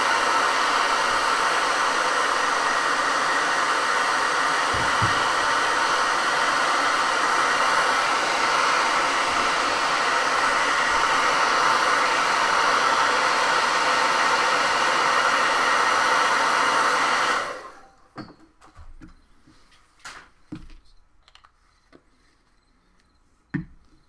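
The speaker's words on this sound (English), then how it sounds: "Go ahead and hit that with the hair dryer." A hair dryer blows with a loud, constant whooshing roar for most of the clip, then cuts off, leaving faint taps and clicks.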